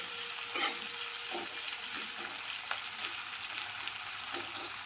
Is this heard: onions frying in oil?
yes